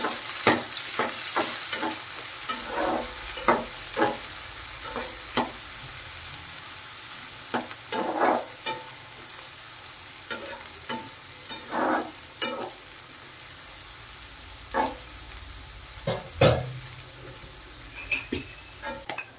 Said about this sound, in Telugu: ఇప్పుడు ఎండు మెత్తళ్ళు కూడా వేసేసుకోవాలి. దీంట్లోనే ఇవి కూడా కొంచెం ఫ్రై చేసుకోవాలి.